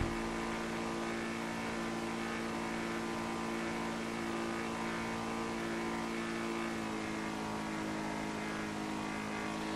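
Übermacht Revolter sports car in GTA Online, a steady engine drone with a constant hum, close and loud, holding an even note for the whole stretch with no talk over it.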